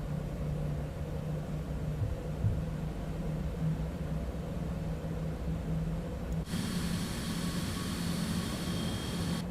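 Jet engines of a Citation X hum steadily while the aircraft back taxis on the runway, a constant muffled roar heard from inside the cabin that brightens with added hiss near the end.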